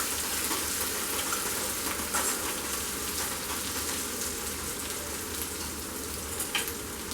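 Chicken gravy frying over a medium-high flame in a pan, a constant dense sizzle with occasional scraping stirs, no voices.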